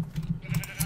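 Two sheep in Minecraft bleat in short, wavering pulses, close and fairly loud, with no talking.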